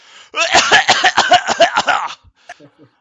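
A voice imitates a harsh, hacking cough: a rapid burst of rough, rasping bursts lasting under two seconds, followed by a couple of faint sputters.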